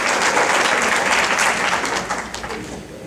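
Audience applause at a Hindi poetry gathering (kavi sammelan), dense steady clapping filling the room from the start and gradually thinning toward the end.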